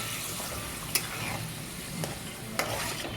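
Masala is sautéed in oil for a veg biryani base, a steady soft sizzle with a spatula scraping and three brief clinks against the pan, close and moderately quiet.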